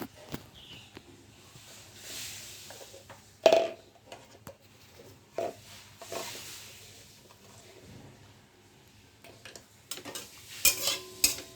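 Food fries in a pan with turmeric added, stirred with a utensil: a low sizzle runs throughout, broken by scraping stirs and a few sharp clinks of metal, with no one talking.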